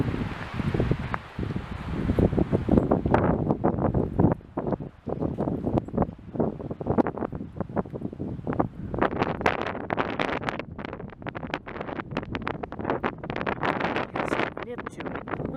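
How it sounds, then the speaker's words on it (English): Strong high Sierra wind on a mountain hike near South Lake buffets the microphone in loud, continuous gusts with rustling, roaring for the whole stretch while someone speaks over it. "It's that high Sierra wind."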